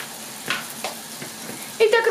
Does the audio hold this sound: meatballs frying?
yes